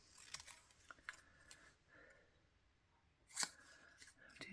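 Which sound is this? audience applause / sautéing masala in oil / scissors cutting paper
scissors cutting paper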